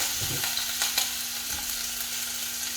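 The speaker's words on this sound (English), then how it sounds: "I'm putting some cooking oil into this, just about 3 or 4 tablespoons. Adding the ginger and garlic" Ginger and garlic crackle in a few tablespoons of hot cooking oil for a stir fry, a steady close sizzle broken by a few quick stirring knocks.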